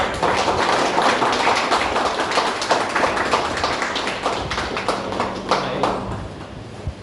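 An audience at a small felicitation ceremony for a guest who distributes labour cards claps loudly and steadily, a dense patter of many hands sustained throughout before easing slightly at the end.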